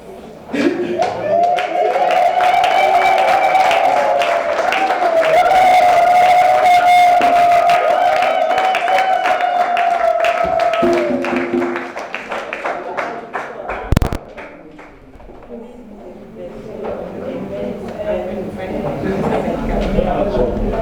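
Applause at a community fortieth-anniversary celebration as couples are honoured, with many hands clapping under a loud sustained tone and voices, the clapping thinning near the end.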